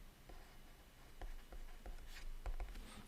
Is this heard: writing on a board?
yes